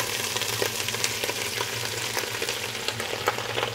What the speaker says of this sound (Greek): Τα κέλυφη και τα κεφάλια θα τα σοτάρουμε αρχικά